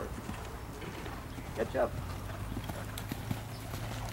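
Horse hooves clip-clopping during a riding lesson in a jumping clinic warmup, faint rhythmic thuds under an instructor's spoken remark.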